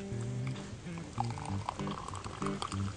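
Hot boiled water is poured into a cup at a hunting camp, giving a steady gurgling liquid stream with low rumbling underneath, close by and fairly quiet.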